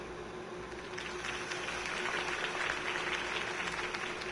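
A crowd applauds after a Harvey Dent campaign speech, a dense, even wash of clapping at moderate distance that holds steady throughout with no voices over it.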